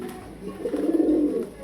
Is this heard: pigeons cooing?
yes